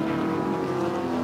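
Muscle race cars run three wide down the front straight at Hampton Downs, including a Mustang and an XA two-door Falcon, their V8 engines a loud, sustained droning roar that holds steady throughout.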